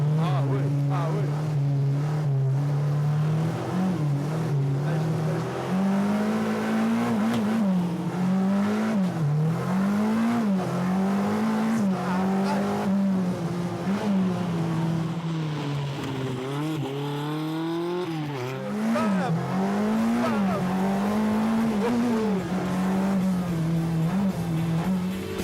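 Peugeot 205 driven flat out, its engine revving hard and rising and falling through gear changes in a continuous loud, close drone, with road noise throughout.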